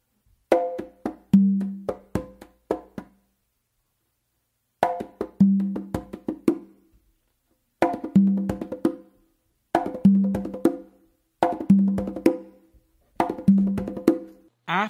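Hand drum playing a combination of bass, finger and muff strokes, repeated in six short rhythmic phrases separated by brief pauses, close and clear with no talking.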